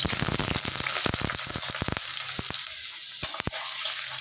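Potatoes frying in hot oil with banana and cinnamon: a steady crackling sizzle with sharp pops and spatters, busier at first and then thinning to scattered crackles.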